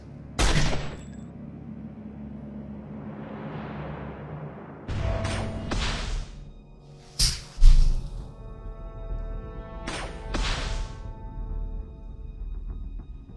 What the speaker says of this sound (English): Alright, needle gun.